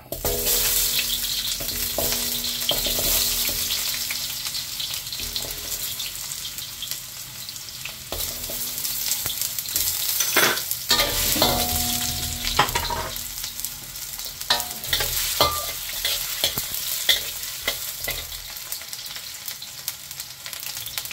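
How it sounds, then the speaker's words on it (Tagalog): Steady frying sizzle of potatoes and carrots in a pan for beef caldereta, continuous and fairly loud, with occasional clinks and scraping stirs breaking through the crackle. "Patatas, carrots, prito muna natin saglit."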